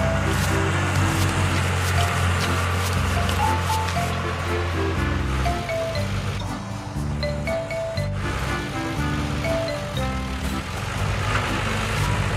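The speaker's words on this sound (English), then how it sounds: "Let's wash the tree planting machine." Water rushes and splashes over a tree planting machine being washed, a continuous wash with a motor hum, set under a tonal musical backing.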